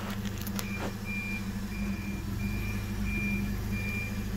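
A reversing alarm on a forklift moving a pallet, a series of evenly spaced high beeps repeating over a low steady engine rumble, moderately distant and not loud.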